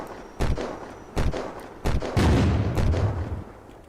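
A series of heavy booms and thuds in the video game Unturned, several sharp blasts spaced about a second apart, followed by a longer rumbling explosion, loud and close with no talking.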